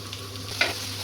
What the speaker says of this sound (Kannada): ಕರಿಬೇವು ಹಾಗೆ ಈರುಳ್ಳಿ, ಟೊಮೊಟೊ ಇಷ್ಟನ್ನು ಹಾಕ್ಬಿಟ್ಟು ಚೆನ್ನಾಗಿ ಫ್ರೈ ಮಾಡ್ಕೊಳ್ಳೋಣ